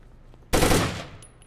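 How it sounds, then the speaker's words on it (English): Burst of video game gunfire from a solo tactical shooter, a single loud rapid volley that erupts suddenly, rings for about half a second, then decays into quiet room tone with a faint high electronic whine. "Shot him right through the monitor."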